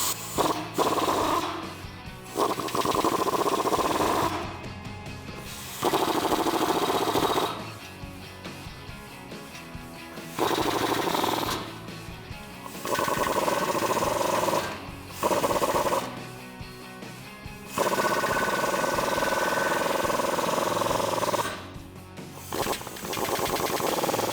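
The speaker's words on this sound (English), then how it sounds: "I'm gonna use that 13mm socket and tighten those up." A powered driver spins a 13mm swivel socket to tighten bolts on side armor for a 1987-2006 Jeep Wrangler, in repeated loud rattling bursts a few seconds long separated by brief pauses, close and without talk.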